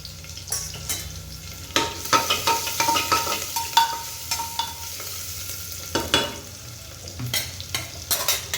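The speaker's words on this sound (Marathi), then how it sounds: "त्याच्यामध्ये टाकले थोडीशी मोहरी, थोडीशी जिरे आणि थोडीशी हळद" Mustard seeds, cumin and turmeric crackle and sizzle in hot oil, with sharp popping spatters over a constant frying hiss and some stirring close by, and no speech.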